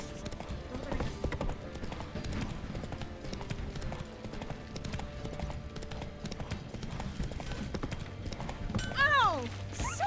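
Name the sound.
horse Roach galloping in video game The Witcher 3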